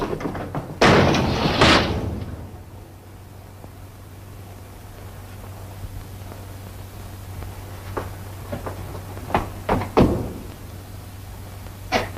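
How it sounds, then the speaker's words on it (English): A door in a 1938 film drama shuts and locks with a loud thump near the start, then a quiet hiss, then a second sharper knock and clunk near the end. "Well, I'm going to lock my door too, just the same."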